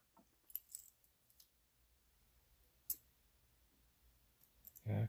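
A Kaba Ace lock, a compact mortise-style lock, gives scattered small mechanical clicks, one sharper snap midway and a louder clunk at the end, close up in a quiet room.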